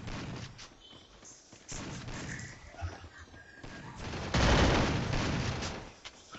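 Gunfire in the Free Fire battle royale video game: a steady stream of distant-sounding shots and impacts under game ambience, swelling into a louder, denser burst of firing in the later half.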